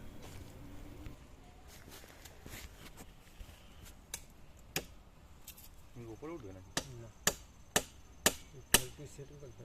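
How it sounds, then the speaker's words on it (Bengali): Nails being hammered into a bamboo bridge outdoors in a village, a series of sharp, fairly close knocks that grow more regular toward the end, over quiet background and faint voices. "দেখতেই পাচ্ছেন এখানে পেরেক মারা হচ্ছে"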